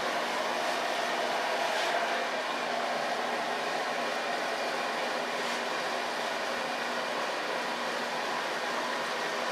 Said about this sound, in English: I think a lot of blow dryers give too much noise